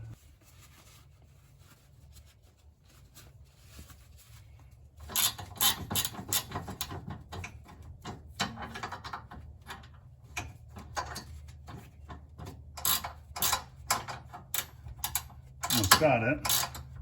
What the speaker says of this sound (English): I'm going to turn the video off and finish tightening it.